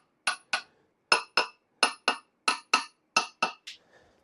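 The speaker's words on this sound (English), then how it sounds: "I clamp the block here" Metal clamping work on a cast iron block set up on a surface grinder gives a run of about twelve bright metallic clinks and taps, mostly in quick pairs, close and clear with no talk.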